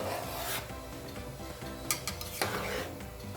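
An egg mixture for dhaba-style anda ghotala is stirred in a pan on the stove, giving close, rough scraping and rubbing strokes with a couple of sharper knocks of the utensil partway through.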